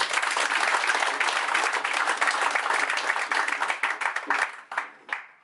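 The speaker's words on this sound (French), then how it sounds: "Je vous demande de les applaudir." An audience applauds warmly at a church gathering in Burkina Faso, a dense wash of clapping that stays full for about four seconds, then thins into scattered claps before fading out.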